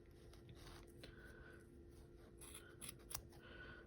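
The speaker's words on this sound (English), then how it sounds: "Need to get sharper scissors." Scissors snipping yarn while trimming a handmade pompom, a few quiet close crisp cuts with soft rubbing between, the sharpest snips clustered near the end.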